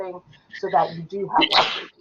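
A single human sneeze bursts out abruptly in a room during a talk about mammography quality control testing, loud and close, following a few spoken words.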